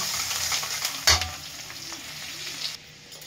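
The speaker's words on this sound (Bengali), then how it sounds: "বাটারের উপরে রসুন কুচিটা দেওয়ার পরে গন্ধটা খুব সুন্দর ছেড়েছে। রসুনটা লাল লাল হয়ে ভাজা হবে।" Minced garlic frying in hot melted butter, a steady broadband sizzle with a sharp clatter of stirring near the one-second mark, then the hiss drops away abruptly toward the end.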